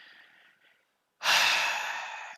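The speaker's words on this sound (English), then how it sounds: "excuse me, another yawn attack." A person lets out a yawn, a long breathy exhale that starts abruptly and fades slowly, close and fairly loud after a softer breath, with no speech.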